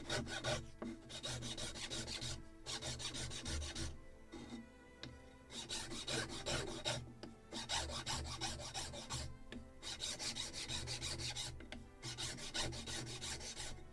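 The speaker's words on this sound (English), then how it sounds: "The rest I will sand with Scotch-Brite and" Scotch-Brite pad and sandpaper rubbing over a wooden yard for a Model Shipways kit of the 1776 gunboat Philadelphia, a steady close rasping scrape in long continuous strokes with brief pauses between passes.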